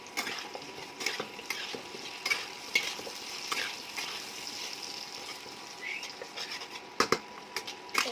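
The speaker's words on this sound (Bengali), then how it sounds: "এদিকে আলুটা ভাজা হবে, হালকা ভাজা হবে," Sliced potatoes and browned onions sizzle steadily in a hot pan while a spatula scrapes and stirs through them, with repeated close metallic scrapes over a continuous frying hiss.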